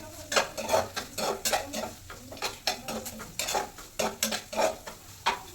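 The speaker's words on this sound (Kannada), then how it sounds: "ಸೊ ಈರುಳ್ಳಿ ಸ್ವಲ್ಪ ಬ್ರೌನಿಶ್ ಥರ ಬರುವಾಗ ಆ ಥರ ಚೆನ್ನಾಗಿ ಫ್ರೈ ಮಾಡ್ಕೊಳ್ಳಿ." Onions frying until browning in a pan, stirred steadily with a metal spoon: a run of sharp scraping and clinking strokes against the pan, close and fairly loud, over a soft background sizzle.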